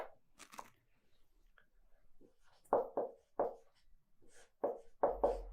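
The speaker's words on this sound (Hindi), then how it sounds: "मैं यहां लिख रहा हूं" Chalk or marker strokes scrape across a board during a physics lecture on laws of motion, coming as short scratchy bursts in an irregular rhythm, close and moderately loud, with no talking.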